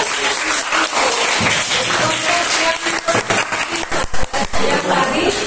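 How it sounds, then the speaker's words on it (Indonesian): Classroom applause for a student group in a lesson on ecosystems, dense steady clapping from many hands filling the whole stretch, with a few louder bursts near the end. "Kita kasih tepuk tangan kepada kelompok Beril"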